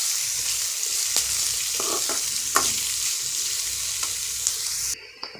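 Vegetables sauté in hot oil in a pan for an oats khichadi, a continuous close sizzle with a few soft stirring scrapes and clicks and no talking.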